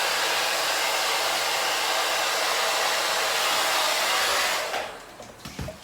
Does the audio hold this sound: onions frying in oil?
no